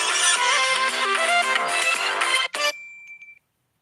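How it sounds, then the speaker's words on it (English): A phone rings with an incoming call, a loud, close, melodic electronic ringtone playing steadily before cutting off abruptly, followed by a brief fading tone. "I just got a phone call."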